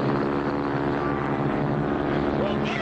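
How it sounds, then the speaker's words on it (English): A cartoon airplane engine drones steadily as the plane flies right overhead during a bush-pilot chase, a loud, continuous propeller hum that holds without a break. "There's another plane right on top of us."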